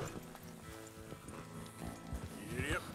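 Horse hooves clop steadily while riding in Red Dead Redemption 2, a rhythmic, moderately close patter with a brief whinny-like tone near the end; a person talks over it.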